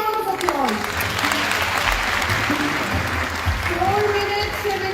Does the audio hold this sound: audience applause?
yes